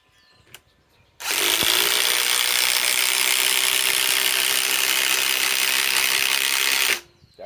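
Ryobi PSBIW25 compact impact wrench on an 8 Ah 21700 battery drives steadily into a pre-drilled hole, one loud continuous whirring burst of about six seconds with a sharp start and stop.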